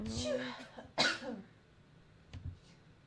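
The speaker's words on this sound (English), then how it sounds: "I hate when I sneeze and I cough at the same time" A sudden explosive burst combining a sneeze and a cough, followed by a smaller cough, with a brief voice just before.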